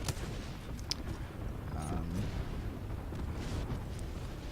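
Ability-driven barrage of explosions from a defensive character's ultimate in the video game Apex Legends, a dense, continuous rumble of booms and blasts with a few sharper cracks throughout, loud and steady.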